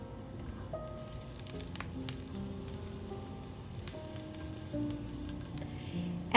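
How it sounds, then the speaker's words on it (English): Ginger and crushed garlic stir-fry in hot oil in a pan over medium heat. A soft, steady sizzle continues throughout with faint scraping, and no voice is heard. "Heat some oil in a pan over medium heat. Add the ginger and crushed garlic,"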